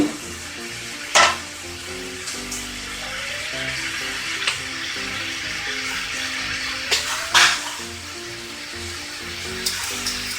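Chicken arroz caldo simmers in a pot with a steady bubbling sizzle, broken by a few louder clinks and scrapes of a utensil against the pot.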